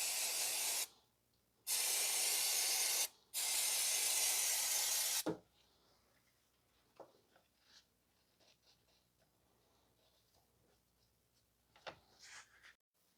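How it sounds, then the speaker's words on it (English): Brake cleaner sprayed from an aerosol can to wash down clutch parts on a 2010 Toyota Corolla 1.8, three loud hissing blasts, the last longest, then faint clinks and handling noises. "we are just going to wash this down with brake cleaner"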